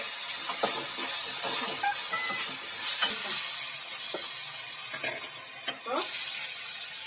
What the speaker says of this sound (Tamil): இது பாருங்க, தண்ணி வத்திர சவுண்டு கேட்குது.